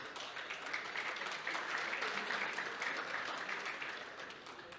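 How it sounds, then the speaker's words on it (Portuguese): Steady applause from a conference audience, dense and even clapping that holds for several seconds before tapering slightly at the end. "Ilson José de Oliveira, a quem eu peço uma salva de palmas."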